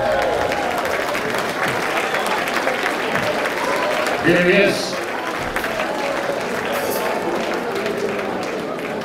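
A festival crowd at a blues show claps and cheers for the band joining the stage, a continuous roar of applause that stays loud, with a voice briefly speaking over it midway.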